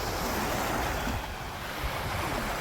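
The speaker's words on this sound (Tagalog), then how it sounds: "Ito yung dagat nila." Surf rolls onto the beach at Mui Ne, Vietnam, a steady broadband wash of waves mixed with wind noise on the microphone, with no voices.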